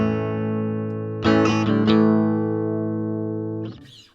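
A sustained clean electric guitar chord through a solid state amp, pickup in middle position, rings out, then a few quick strummed hits, letting the chord decay slowly before a brief scratchy noise at the end.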